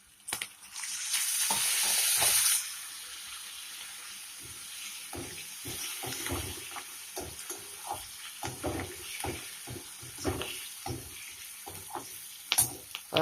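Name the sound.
curry leaves sizzling in tempering with asafoetida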